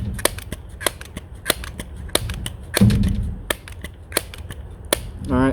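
A pump-up Crosman airgun fires pellets through a budget Buck Rail moderator, giving a close series of sharp, muted clicks and snaps spaced irregularly over a quiet background.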